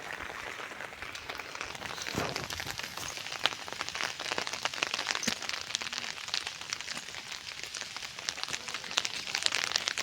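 Rain falls steadily on a large umbrella on a cold, wet outing in Valparai, a dense, close patter of drops with occasional sharper taps and no talking.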